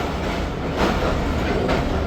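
The Karakoram Express train arriving at night, a steady loud rolling rumble with rhythmic clickety-clack of wheels over rail joints, close by and without voices.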